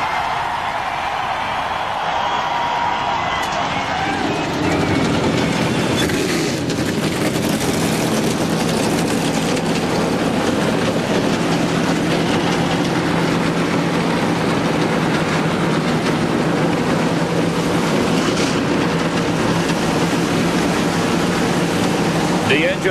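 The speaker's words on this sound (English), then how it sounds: "The engines have been fired." NASCAR Winston Cup stock car engines fire up together at Pocono Raceway in 2001. After a few seconds of quieter ambience, a loud, sustained engine roar rises, and an announcer talks over it.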